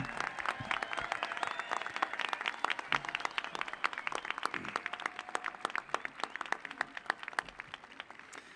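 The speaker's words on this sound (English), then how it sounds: "One more round of applause for these guys." Sustained applause from a crowd honoring graduates at a high school graduation ceremony, dense and even, many hands clapping continuously at moderate distance.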